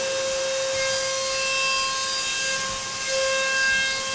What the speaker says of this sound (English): We just skim the part off with a 20mm step cutter.